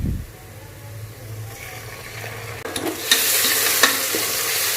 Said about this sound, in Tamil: இப்போ நம்ம இஞ்சி பூண்டு விழுதை சேர்த்துடலாம்